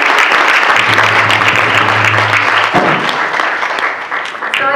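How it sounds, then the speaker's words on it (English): Audience applause at the Motherhood of Africa launch event at the DCU Center in Worcester, Massachusetts: sustained dense clapping from a large crowd, loud throughout and slowly thinning near the end. "Please give them another round of applause."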